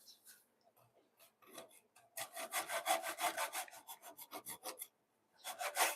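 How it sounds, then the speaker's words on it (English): Hand saw strokes cutting wood for corner braces in a home workshop, a rapid rhythmic rasping run of back-and-forth strokes, close and loud, with a few sparse scrapes first and a short pause before a final burst. "I'm sawing to the side of the grain"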